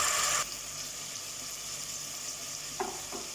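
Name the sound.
ginger garlic paste frying in a pan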